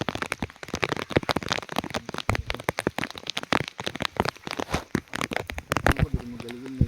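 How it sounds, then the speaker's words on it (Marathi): Heavy rain pours down outdoors during traditional crab catching, a dense, continuous crackling patter of drops on surfaces throughout, with a faint low hum near the end. "पाऊस बघ कसला पाऊस पडतो जोरदार"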